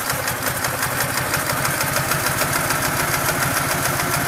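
A Ural motorcycle engine idles while warming up in winter, a loud, steady, close putter with an even rapid firing rhythm throughout and no voices.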